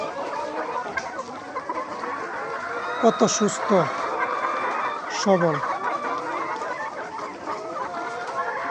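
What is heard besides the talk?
layer hens clucking on a poultry farm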